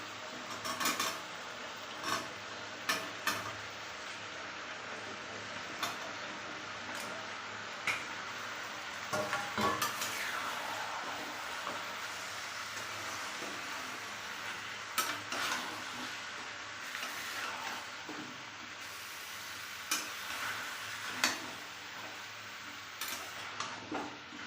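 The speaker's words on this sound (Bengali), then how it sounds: "এবার আমি এক এক করে সবজিগুলো দিয়ে কষিয়ে নিই।" Vegetables for a drumstick and chicken soup stir-fried in a pan, repeated spatula scrapes and knocks at an uneven pace over a faint continuous sizzle, close and quiet, with no talking.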